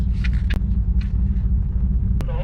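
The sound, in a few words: car engine running at autocross grid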